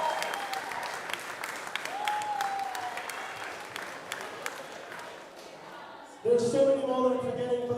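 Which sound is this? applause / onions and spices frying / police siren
applause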